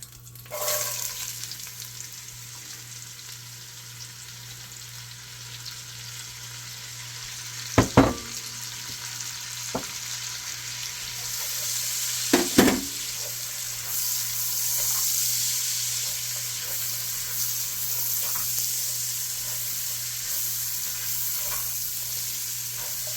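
Celery, onions and carrot sauté in a pan, giving a continuous low sizzle with a couple of sharp utensil clicks partway through and the hiss swelling a little toward the end.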